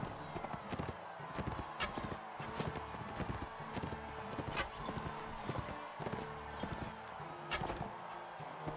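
Galloping horse hooves in the medieval combat game Mount & Blade Warband, a steady rapid clip-clop running through the whole stretch alongside other game sounds, with someone talking over parts of it.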